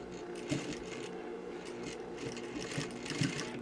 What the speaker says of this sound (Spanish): vas a bajar la aguja en el vértice, vas a voltear la pieza y ahora vas a coser hacia arriba